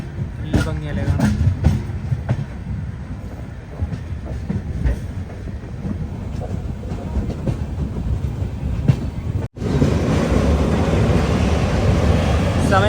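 Mangala Lakshadweep Express rolling into Kannur station, a steady loud rumble and rhythmic wheel clatter heard from inside the sleeper coach, with a sharp break near the end followed by a denser, harsher roar.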